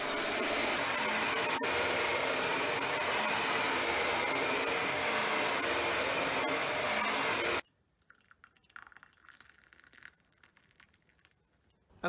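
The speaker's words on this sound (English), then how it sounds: "let's just plug it in and have a quick vacuum" A Dyson DC33 upright vacuum cleaner runs with a loud steady motor roar for about seven and a half seconds, then cuts off abruptly, leaving near silence with faint scattered handling noises.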